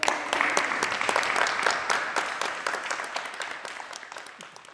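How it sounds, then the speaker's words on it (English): A church congregation claps to welcome a new member, starting with loud, full applause and thinning out into scattered, separate claps as it slowly dies down. "And now we can welcome her with a round of applause."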